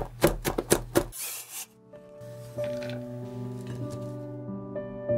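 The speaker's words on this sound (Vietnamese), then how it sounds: "Mình cũng cắt ra và băm to to như thế này." A knife coarsely minces about 15 grams of garlic on a board for a vegetarian braised gourd dish: a quick run of close, crisp chops for about a second, then steady background music carries on alone.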